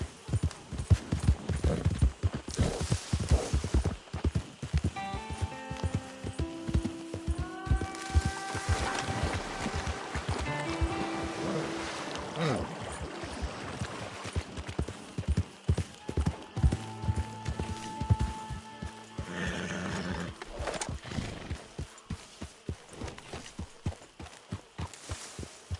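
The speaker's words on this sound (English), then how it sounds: "That horse will soil camp. Remove it." Horse hooves clip-clop in an uneven rhythm alongside music and game sounds in Red Dead Redemption 2 on PS4.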